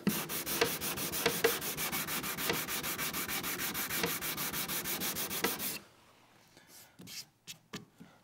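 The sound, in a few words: sanding block sanding wood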